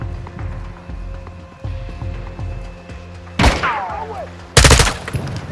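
Gunfire in the Modern Warfare 2 video game, aimed at a target: low rumbling thumps and engine drone, then two loud, sharp bursts of shots later on, one with a whistling sweep.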